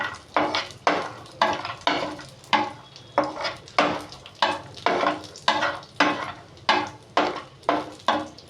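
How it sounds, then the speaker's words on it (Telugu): Cashews frying in ghee in a pan, stirred with rhythmic scraping strokes about twice a second, each a loud close rasp over a faint sizzle, with no voices. "నెయ్యి వేసుకొని వేయించుకుందాం. జీడిపప్పు"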